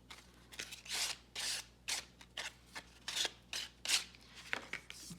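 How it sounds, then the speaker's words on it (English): Sanding the paper edge of a handmade mini journal, a series of about a dozen short scratchy rubbing strokes in an uneven rhythm, close and fairly quiet, with no talk. "Just sand that off a little bit."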